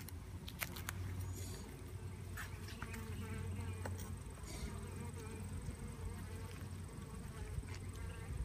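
Honeybees buzz steadily around an open hive during an inspection, a faint, continuous hum that runs through the whole stretch with light handling noises over it.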